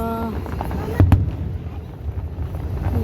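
Fireworks going off outdoors, with a couple of sharp, loud bursts near the start followed by a rumbling, crackling wash of more distant explosions and some faint voices.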